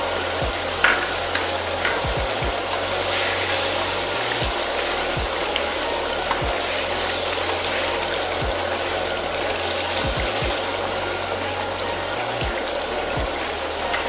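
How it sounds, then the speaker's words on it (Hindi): Biryani masala sizzling and frying steadily in a pan, a continuous close crackle with occasional soft clicks of stirring throughout, no talking. "मसाला जो हमारा भून चुका है"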